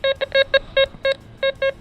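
A Golden Mask 4 PRO S metal detector gives its non-ferrous target tone, a series of about eleven short, bright, clear beeps in an uneven quick rhythm, close and fairly loud with nothing else over them.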